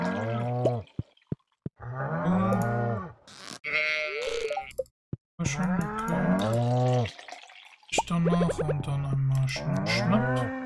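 Repeated cow moos from the Stardew Valley video game as a cow is milked, several drawn-out lowing calls one after another with short clicks between them, loud and close with no talking.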